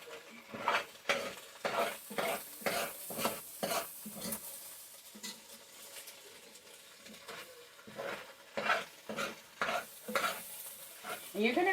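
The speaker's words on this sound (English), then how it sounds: "you're just stirring and stirring and scraping and scraping" Eggs and macaroni in a pan being stirred and scraped, with a rhythmic series of close, sharp scrapes in quick bursts, a pause, then another run of strokes over a faint sizzle.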